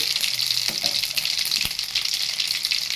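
Tempering seeds of mustard, chana dal and urad dal fry in hot oil, giving off a steady, close crackling sizzle with faint spits and pops and no talk over it.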